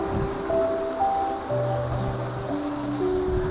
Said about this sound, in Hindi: इसके नीचे से दरिया गुजर रहा है